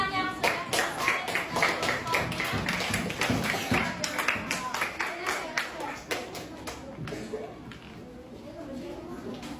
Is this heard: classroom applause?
yes